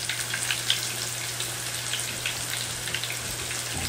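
Chicken fries in half an inch of oil heated to 375°F, a steady sizzle with constant crackling hiss and small pops scattered throughout, close by and without voices.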